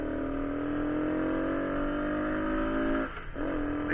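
A Honda CT90 motorcycle pulls in gear with a steady, buzzing engine drone that rises gradually, dips briefly near the end as it shifts, then picks up again.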